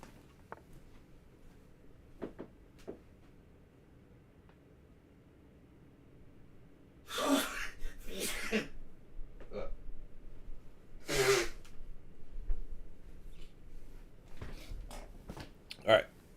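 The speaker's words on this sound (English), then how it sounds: "I gotta sneeze again." A person sneezes, a sharp burst followed by a couple more sneezy exhalations, near and fairly loud against a quiet room with small clicks in between.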